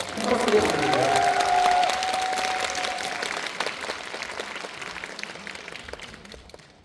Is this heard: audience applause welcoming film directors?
yes